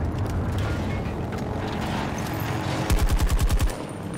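Gunfire in Battlefield 2042 rings out as a quick burst of rapid automatic shots near the end, rising briefly above a steady background of battle noise.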